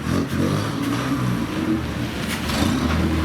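A supercharged 1929–1930 Bentley Birkin Blower road car at a concours event revs its engine loudly and steadily nearby, a deep throaty roar rising and falling throughout.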